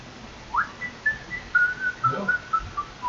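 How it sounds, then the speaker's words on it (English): A person whistles a short wavering tune of a few rising and falling held notes, fairly close and alone over a quiet background with a few soft thumps. "Listen to a bit of whistling."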